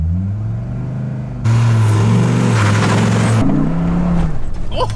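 Dodge Viper GTS engine revving hard, a loud, deep, steady roar that swells in the middle and stays close, with people talking over it.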